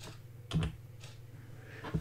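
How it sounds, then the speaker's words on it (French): Two soft clicks of keys being pressed, spaced over a steady low electrical hum. "Veuillez appuyer sur l'une des touches suivantes."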